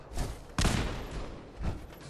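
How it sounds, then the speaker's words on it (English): Explosions in the Fallout 4 video game, with a booming blast near the middle followed by a smaller one near the end, all over a rumbling game background. "There's another explosion."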